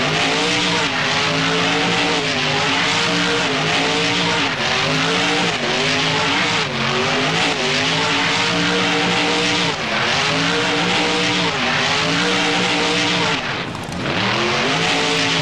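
A monster truck spinning donuts in BeamNG, its engine roaring continuously with rising and falling revs in a steady looping rhythm, loud and close, with tire scrubbing throughout.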